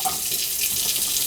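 Water trickles steadily from an indoor faucet on a first-floor tap with weak, low flow, giving a soft, even hiss up close with no talking.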